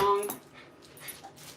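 A dog gives a brief high whimper at the start, then goes quiet under soft background movement and faint voice sounds.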